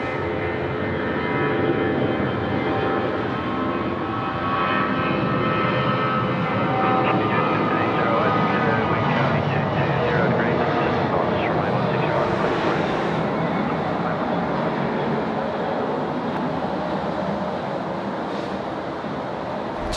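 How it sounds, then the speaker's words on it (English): A Virgin airliner taking off at night from Sydney Airport in heavy rain, a loud, steady jet engine roar that fills the whole stretch without pause, with a voice talking over it. "Love the night lighting there on the Virgin aircraft as it just goes off into the pitch black distance."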